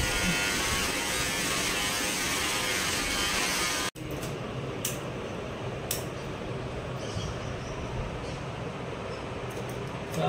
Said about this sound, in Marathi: बघा आता यांची दाढी चालू आहे.